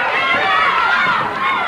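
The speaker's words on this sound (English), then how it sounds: "Crowd partisan for Lawler" A wrestling arena crowd roars steadily for Jerry Lawler during a title match against Ric Flair, a loud sustained wash of cheering and voices throughout.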